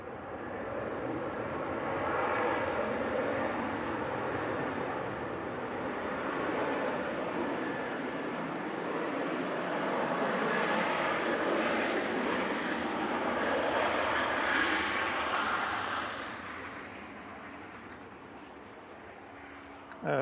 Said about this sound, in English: Ryanair 2071 from Alicante, now an HQCD 737-800.